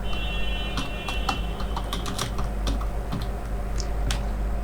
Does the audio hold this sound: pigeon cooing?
no